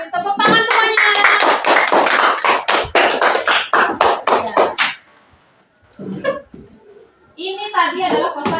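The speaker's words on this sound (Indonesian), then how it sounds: "Tepuk tangan semuanya." Elementary school children in a classroom clap their hands together, a burst of rhythmic, fairly loud claps for several seconds, then a pause and scattered children's voices with brief clapping again at the end.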